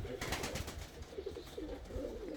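A pigeon coos softly a few times at close range, its low rolling calls rising and falling with faint background rustling.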